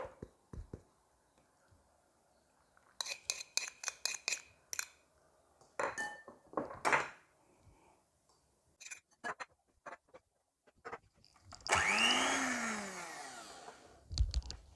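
An electric mixer beats chocolate chip cookie dough in a bowl, a loud whirring burst of a few seconds near the end, preceded by scattered clinks and taps of utensils and sugar being added.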